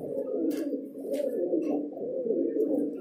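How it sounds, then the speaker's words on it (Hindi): A female pigeon in a Delhi pigeon shop gives a continuous low, throaty cooing, soft and close, with a few faint higher rustles or chirps from the surroundings. "सो गाइस ये कबूतरी है"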